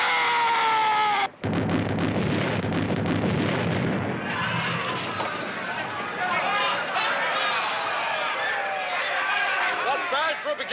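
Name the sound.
ship's cannons firing in a western film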